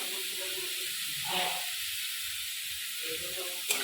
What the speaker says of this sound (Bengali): ভালো করে আমি এটা ভেজে নেবো